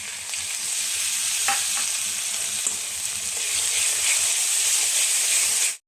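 Spices and tomato paste sauté in a hot pan, a loud continuous sizzle with occasional stirring scrapes throughout, ending in a sudden cutoff.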